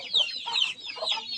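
Free-range chickens clucking inside a poultry shed, a few short bright calls overlapping in quick succession, fairly close and clear with no talk.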